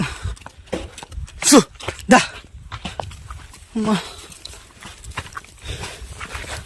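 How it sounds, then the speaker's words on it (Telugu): Goats and bullocks walk along a village road, their hooves giving a few sharp, irregular knocks close by with faint voices and rustling between them. "మేకలు ఒక దిక్కు ఎడ్లు ఒక దిక్కు"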